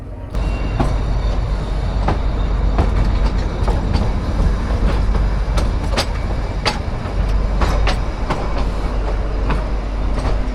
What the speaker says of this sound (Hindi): तो भाई हमारी ट्रेन का डिपार्चर हो चुका है शिमला रेलवे स्टेशन से।